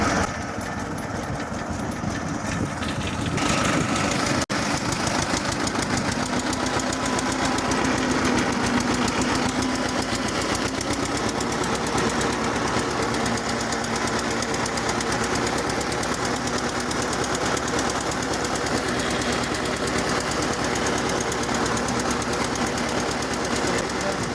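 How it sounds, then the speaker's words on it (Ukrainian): A loud, rattling homemade tractor engine runs continuously up close while cutting garlic rows, its knocking drone steady throughout; a voice can barely be made out beneath the racket. "шум такий трактори, що нічого не чути"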